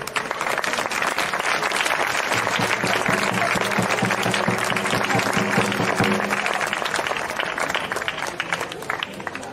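Sustained audience applause for the Zamoran drummers association at a drummers' gathering, dense steady clapping filling the whole stretch, with a faint low tone held underneath for a few seconds in the middle.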